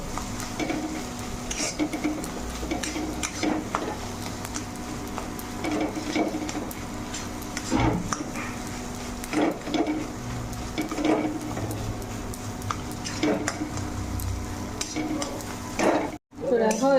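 Grated boiled potato fries in a pan, a low sizzle under repeated scraping and clinking of a utensil against the pan, with a voice talking over it now and then.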